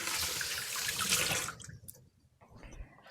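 Water runs steadily from a kitchen tap for about a second and a half as hands are wet before rolling chickpea chocolate chip cookie dough, then cuts off, leaving quieter handling noises and a few drips.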